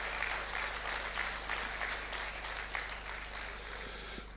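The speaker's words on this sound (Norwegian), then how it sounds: "Skal vi gi han en stor applaus" A church audience applauds in a steady, dense round of clapping throughout, fairly distant and even in level, with a low hum underneath and no talk.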